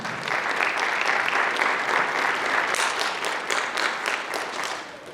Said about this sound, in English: So let's please give our parents a round of applause.